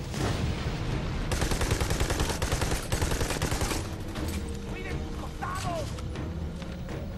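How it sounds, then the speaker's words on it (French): Gunfire and a grenade explosion in the co-op shooter Army of Two: The Devil's Cartel, with dense rapid shots and thudding impacts rolling continuously, thinning toward the end while players talk over it. "Grenade."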